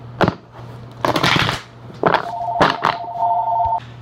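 A telephone rings with a steady electronic tone through the middle of the moment, loud and close, amid brisk bursts of tarot cards being shuffled.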